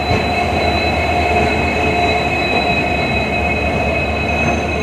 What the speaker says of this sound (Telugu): కల్లూరు ట్రైన్ది లోకోమోటివ్ చూడండి